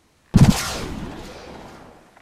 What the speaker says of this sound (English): Fire the gamma ray!